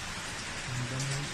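Rain drips and patters through an unfinished second-floor roof of a house under construction, a steady broadband hiss with a faint low tonal hum near the end.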